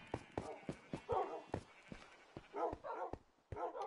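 Many dogs in the game Minecraft bark in quick, scattered yips and woofs, overlapping at close range in an irregular patter with brief gaps.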